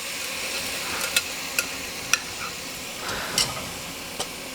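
Beef short ribs sear in a hot Dutch oven for Korean braised beef, a steady close sizzle and hiss with several sharp pops and spatters scattered throughout.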